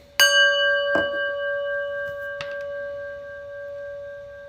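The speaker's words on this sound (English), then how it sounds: "we listen to the prayer bell" A single prayer bell is struck once, ringing out clearly with a pure sustained tone that slowly fades, with faint small knocks after.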